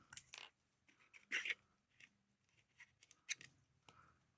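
Scissors cut through a folded paper signature for journal binding, producing a few sharp, close snips spaced unevenly across a quiet room.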